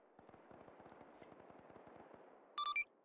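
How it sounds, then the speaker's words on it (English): Indirect fire explosions in the video game Arma 3 come as a rapid, fairly steady series of sharp bursts, then a few short electronic beeps at the end, with no talk. "Alpha 10 from Alpha 3, taking indirect fire on Lima 2"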